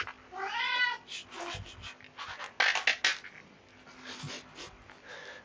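A cat gives a clear, close meow at feeding time, followed by faint bowl clinks and rustling, then a few softer sounds as the food is handed out.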